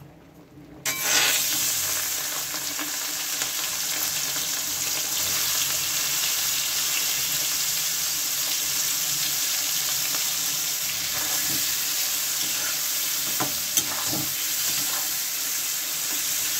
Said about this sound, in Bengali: প্রথমে চিংড়িটাকে নুন এবং হলুদ দিয়ে মেখে নিচ্ছি, এখন একটু ভাজা করে নেব।